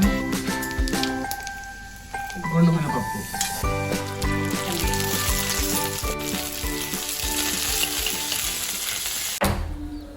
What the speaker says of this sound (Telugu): తాలింపుకి మేము ఆయిల్కి బదులుగా నెయ్యి వాడతాము